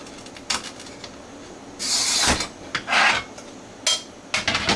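A glass cutter scores a strip of Spectrum stained glass on a Morton board, with several short, close raspy scratches and rubbing bursts between quiet gaps, no talking.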